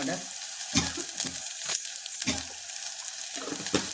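Spice masala with onion and tomato roasting in a pan for a goat head curry, a steady soft sizzle broken by a few scraping stirs spaced out through the clip, close and moderately loud with no talking.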